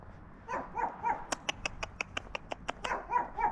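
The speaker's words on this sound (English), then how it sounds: "It's got kind of a high bark for a little dog." A small Pomeranian barks in a rapid run of sharp, fairly high yaps, with a few softer yips and whimpers before and after the loud, evenly spaced burst, close to the listener, heard while someone walks outdoors.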